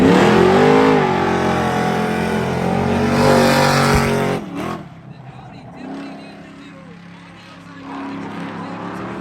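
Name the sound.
cars accelerating at drag race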